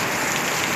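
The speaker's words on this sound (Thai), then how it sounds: "ฝนตกดีขนาดพี่น้องเอ้ย" Steady rain falling during a flood in a rural Thai farm setting, a dense continuous hiss of drops on surfaces, loud and close with no talking.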